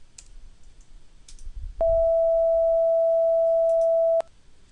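A steady 660 hertz pure sine tone sounds alone for about two and a half seconds, switching on and off abruptly against a faint background with a few soft clicks.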